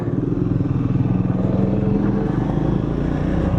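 Triumph Scrambler 400X motorcycle riding along, its engine a steady, loud, continuous drone with a throbbing low rumble throughout and no pauses.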